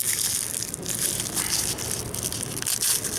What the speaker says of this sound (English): all you have to do is just break these cloves apart